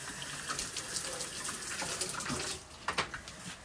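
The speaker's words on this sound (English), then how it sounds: "Let me rinse them real quick." Cherry tomatoes rinsed under a running kitchen tap: a steady close stream of water splashing, shifting as the tomatoes move beneath it, easing off near the end with a few drips and knocks.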